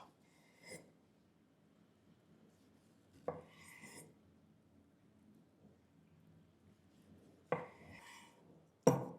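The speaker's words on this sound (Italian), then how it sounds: "Pulite bene la lama e taglio così lo scaloppo" Fresh seared tuna being sliced into escalopes with a knife on a board, a few separate crisp cuts spaced seconds apart over a quiet background, with no talking.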